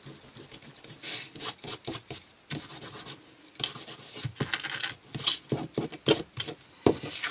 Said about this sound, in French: Je vais gommer mon trait qui est en trop.